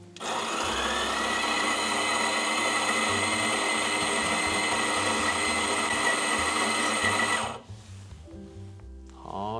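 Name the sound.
home coffee grinder grinding 18 grams of coffee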